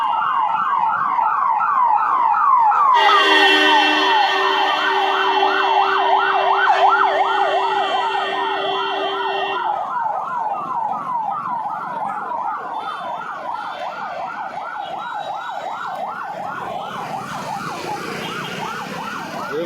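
An ambulance siren in Bangalore wails in fast repeating rises and falls, loud and close, with a steady blaring horn tone layered over it for several seconds.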